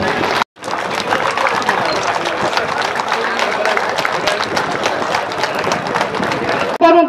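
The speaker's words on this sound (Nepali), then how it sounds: "कृपया सम्पूर्ण विद्यार्थी भाइ बहिनीहरू ताली बजाएर" Students applaud at a presidential running-shield sports event in Malika rural municipality, a dense, steady wash of crowd clapping lasting several seconds, broken by a brief dropout near the start.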